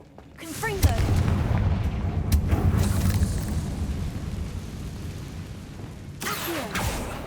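A Confringo fire spell bursts in the game Hogwarts Legacy with a loud booming explosion that rumbles and fades over several seconds, followed by a second smaller blast near the end.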